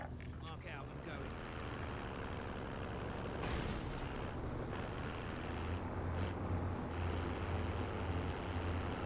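A vehicle driven in the Warzone video game, a steady engine rumble with hissing, brake-like bursts and whistling tones, while voices talk over it.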